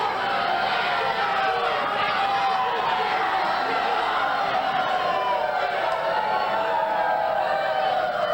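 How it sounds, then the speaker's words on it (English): A large crowd at an indie wrestling show roars continuously as a wrestler enters the ring, loud and dense, with howls and cheers blending into a steady wall of noise that never lets up. "Listen to those howls coming out of this crowd."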